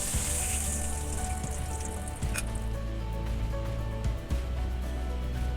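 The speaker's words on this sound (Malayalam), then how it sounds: "ഇതുപോലെ തന്നെ നമുക്കിനി അടുത്ത ബാച്ച് ഫ്രൈ ചെയ്തെടുക്കാം" Fish pieces fry in hot oil for a Kerala-style fish biryani, a loud continuous sizzle with a couple of brief bursts as pieces shift, close up and with no voices.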